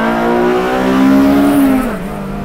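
A Honda Civic EG6 SiR engine with headers revs high toward 10,000 rpm and holds a strained, rising whine before dropping off, loud and close with no talking.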